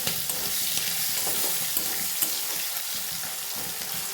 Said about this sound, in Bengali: তো বন্ধুরা তোমার মাছটা ভাজা হয়ে গেছে দেখো